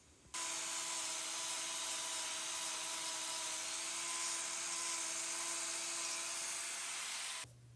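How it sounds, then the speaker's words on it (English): A grinder whirs steadily and close for about seven seconds as it removes wall horn from a horse's hoof, giving a bright, even abrasive whine with a constant tone before it stops. "I'm going to need to remove wall horn, so I'm going to do that right now with my grinder."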